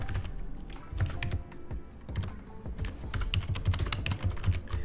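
Rapid, uneven keystrokes on a computer keyboard as a password is entered for a vSphere local administrator account, clattering steadily at close range for about five seconds with no talking.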